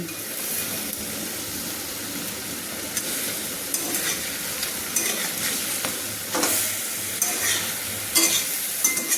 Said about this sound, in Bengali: সেদ্ধ করা মাছগুলো তুলে নিচ্ছি। একটা খুন্তি দিয়ে কিন্তু আমি তুলে নিচ্ছি।